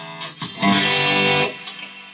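Electric guitar played through a Boss GT-1000 processor's Brit stack amp simulation, a few picked notes then a loud sustained gritty chord that rings for about a second before tailing off.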